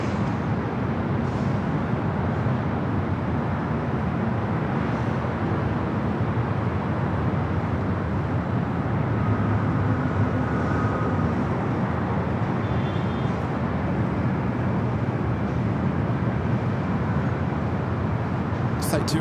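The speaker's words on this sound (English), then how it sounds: "We do have British Airways 777 and touching down at 7 right" A British Airways Boeing 777 arriving from London Heathrow touches down on runway 7 right at LAX, producing a steady, dense roar of jet noise that holds without break for the whole stretch.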